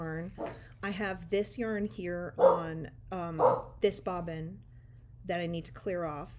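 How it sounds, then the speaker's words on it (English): Dogs bark and yip intermittently in the background while a person talks steadily over them about spinning yarn on a bobbin, with a low hum underneath. "sorry about my dogs"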